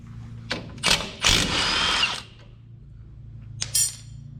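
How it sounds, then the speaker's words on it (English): A 19mm nut and bolt on the bottom of a front strut being undone on a Dmax/Colorado during a TJM suspension lift kit install: two short bursts of power-tool whirring and rattling, a longer buzzing run, then a final quick burst, close and fairly loud. "I'm going to undo a 19mm nut and bolt from the bottom of the front strut."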